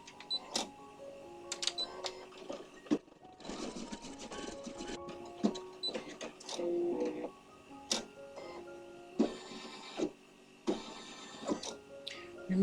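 A home embroidery machine stitches a ribbon design onto fabric held in a hoop, making a busy run of mechanical ticks and clacks with short pauses and bursts of repeated needle strokes.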